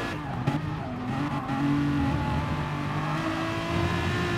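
Race cars in a sim racing game at Brands Hatch jostle side by side during an overtake attempt, engines droning steadily with rising revs and a brief scrape of contact, loud and continuous with no talk.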